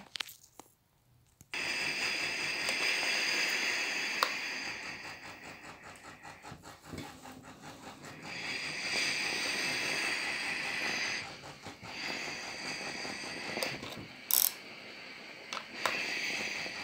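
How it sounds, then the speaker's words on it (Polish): A Tefal Purely & Simply steam iron noisily releasing steam, a close hissing rush that starts after a brief quiet moment and runs in long bursts, with small clicks and rattles from the iron between surges. "kiedy naciskam na parę, aby żelazko dawało parę, wydaje głosy"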